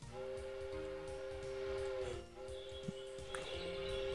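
A train whistle sounds in the railway video game OpenTTD as a steady, sustained tonal blast that dips briefly and resumes, heard faintly over soft game background with no talk.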